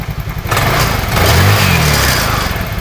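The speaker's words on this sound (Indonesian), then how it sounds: "Saat di engkol motor hidup" A Honda Vario 110 carburetor motorcycle engine running after a kick start, a close, loud, buzzing idle that rises slightly in revs midway and stays steady.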